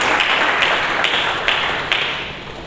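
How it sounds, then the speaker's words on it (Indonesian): A church congregation at a worship service breaks into sustained applause, a dense wash of many hands clapping together at close range. "Berikan tepuk tangan bagi Yesus Kristus Tuhan."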